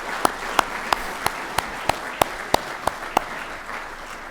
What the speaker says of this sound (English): So give you guys yourselves a round of applause for your participation.